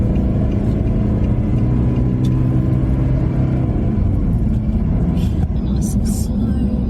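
A borrowed car that sits higher than an SS Commodore drives slowly along a road, its engine and tyre rumble a steady, loud drone heard from inside the cabin throughout.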